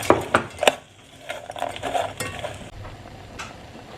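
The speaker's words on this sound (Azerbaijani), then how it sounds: "Qırmızı qaraqatlı üstünə də bir qaşıq şəkər tozu əlavə edirik və qarışdırırıq." Red currants with a spoonful of sugar stirred in a pot: a few sharp spoon clinks at the start, then softer scraping and wet squelchy mixing that fades toward the end.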